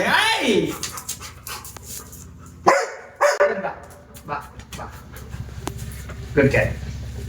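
A dog barks and pants up close, with a few sharp barks and whimpering breaths mixed under people talking.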